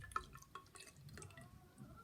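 Water poured into a container holding seeds during a classroom science experiment, heard as soft faint dripping and trickling splashes at close range, with no talk.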